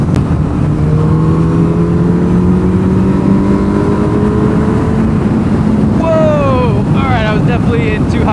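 A Suzuki Hayabusa motorcycle engine revs while riding, its rising drone buried under heavy wind roar, then climbing sharply in pitch near the end.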